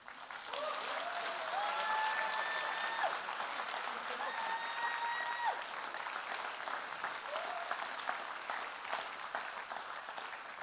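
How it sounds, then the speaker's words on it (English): An audience at an event gives a round of applause, dense clapping filling the room from start to finish, with voices talking and calling out over it. "please, for the photo, one more round of applause."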